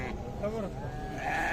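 Sheep bleat at the Sokuluk livestock bazaar, a drawn-out wavering bleat rising over crowd noise, close and fairly loud, with people talking in the background.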